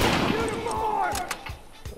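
Sniper rifle shots in The Last of Us, a few sharp reports in quick succession over loud ambient noise, with a voice talking at the same time.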